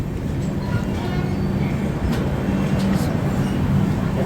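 An intercity express train pulling into Darbhanga Junction railway station in Bihar, with a loud continuous low rumble and rolling clatter of carriages, steady throughout and close by.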